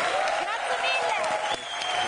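Audience applause for Renzo Rosso of Diesel at a televised show, a steady wash of clapping from a crowd with voices talking over it.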